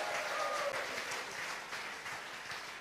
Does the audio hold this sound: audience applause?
yes